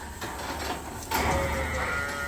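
A sheep bleats loudly and close by, one long wavering call over steady outdoor background noise.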